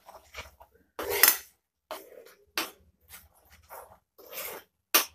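Salt being stirred into green mango chutney, with intermittent scraping and clinking of a spoon against a bowl in short separate bursts, near and fairly clear, with no voices.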